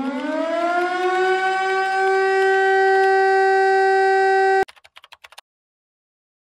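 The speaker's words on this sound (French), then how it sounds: "pour les gens qui ne savent pas, il y a cette sirène." A loud French civil defense siren, tested on a Wednesday of the month, holds a steady wailing tone, then cuts off abruptly, followed by a few brief clicks and silence.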